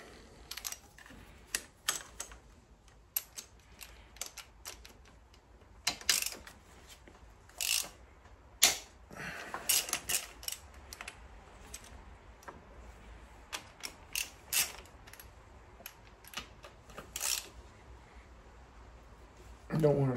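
Ratchet wrench with a 5 mm socket working on the intake of a 2003 Harley-Davidson V-Rod during restoration, giving scattered short clicks and metallic ratcheting bursts, fairly close, with quiet gaps between.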